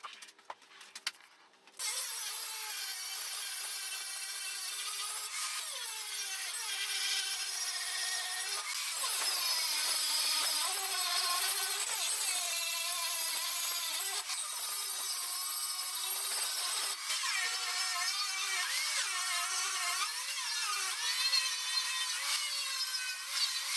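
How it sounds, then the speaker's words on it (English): A hard rock grinding wheel runs over a metal shelf, a continuous high, harsh grinding whine with repeated short dips as the tool lifts and bites again. "I've gone over it with a hard rock wheel, which is what you saw me using at first"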